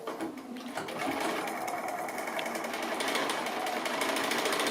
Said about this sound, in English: So I'm going to go to the sewing machine and do that